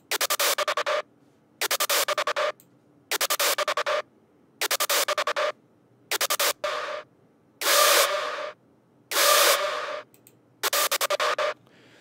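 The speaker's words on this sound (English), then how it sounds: "I manipulated the granulizer settings and the screech sounds like this" A rawstyle screech synth made with a granulizer in FL Studio plays as eight harsh, distorted bursts, each about a second long, separated by short silences in an even rhythm. The later bursts are louder and smoother, and no one speaks.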